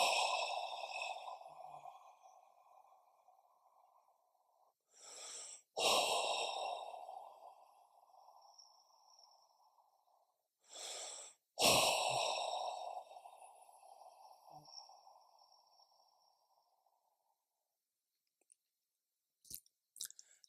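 Long, deep exhalations with audible sighs of relief during a guided meditation session, three slow breaths separated by quick sharp inhales, close and alone with quiet pauses between.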